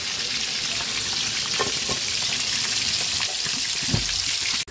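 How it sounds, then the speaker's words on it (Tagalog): Marinated milkfish, daing na bangus, fries in hot oil with a dense, continuous sizzle and crackle, broken by a few brief stirring or spattering pops. "Sinalang na po natin yung ating pritong daing na bangus."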